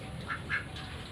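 A duck gives two short, soft quacks over a steady hum of background noise.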